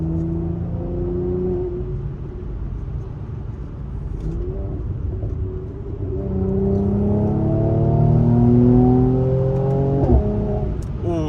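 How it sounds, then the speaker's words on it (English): A Mercedes-AMG C43 W205 on a late-night drive revs and accelerates, its exhaust rising and falling through several gear pulls with a sharp pop near the end, heard steadily from inside the car with no talking. "what you think of the exhaust and the DCT pops"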